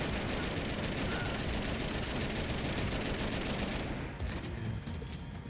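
AK-47 rifle fire in the Max Payne 3 video game pours out as a dense, continuous automatic burst that cuts off near the end, leaving fading echoes and scattered clatter.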